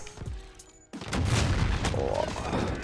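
Call of Duty: Modern Warfare Warzone gunfire erupts into a dense, continuous burst of shots and booms after a short quieter lead-in.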